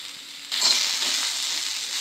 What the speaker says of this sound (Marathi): प्रथम मी कांदा भाजून घेते।